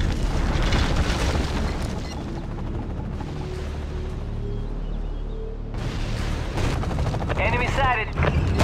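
Act of War video game combat, with gunshots, heavy booms and rumbling explosions rolling through the scene, loud and close, plus a short burst of fast, rattling fire near the end.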